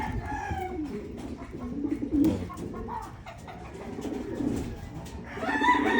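White pigeons on a rooftop coo in low, rolling phrases that repeat through the stretch, with a brighter bird call rising near the end.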